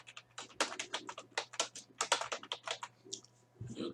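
Fast, steady typing on a computer keyboard while filling in a spreadsheet for tracking a vending business, with dense close key clicks and a faint hum underneath, ending in a couple of softer sounds.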